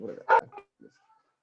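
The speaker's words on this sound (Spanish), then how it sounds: "¿A quién le suena el perro?" A dog barks once in the background during an online class, a short sharp yap mixed in with a person's voice, followed by faint quieter sounds and silence.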